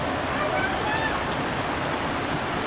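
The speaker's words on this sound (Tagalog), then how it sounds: "Lakas ng ulan." Heavy rain hisses steadily and evenly, a dense wash of noise that stays close and loud throughout.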